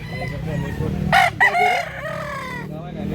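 A mildos gamefowl rooster at a large poultry market in Danao, Cebu lets out one short, loud crow from nearby, heard over a low murmur of background voices and market noise.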